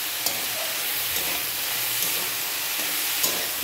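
Ginger paste being stirred into boiled dal in a pan, with a steady low sizzle and a few faint scraping taps of the spoon, no one talking.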